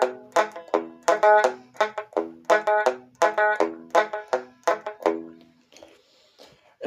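Electric guitar strummed faster with added upstrokes, Sun Records style, giving a quick, bouncing chain of bright down-and-up strums that drives evenly for several seconds before the playing stops.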